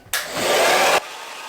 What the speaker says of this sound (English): I've been blow drying for roughly about 5 minutes, 15 seconds